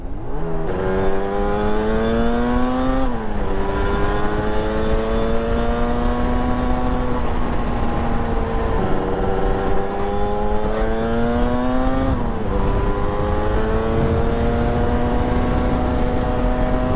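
A Yamaha RD350 YPVS two-stroke motorcycle engine under way, a loud buzzing drone that climbs through the revs, drops sharply at each gear change and climbs again, recorded close and continuous.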